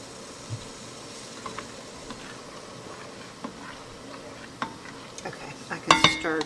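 Muscadine jelly is stirred in a pot on the stove: soft, quiet spoon scrapes and light clinks at a low simmer, with a louder burst of clattering against the pot near the end.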